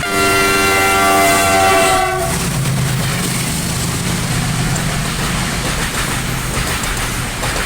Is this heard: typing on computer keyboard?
no